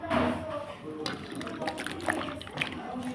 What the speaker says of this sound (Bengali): দেখুন তো কচুগুলো আমি ভালোভাবে জল দিয়ে ধুয়ে নিচ্ছি।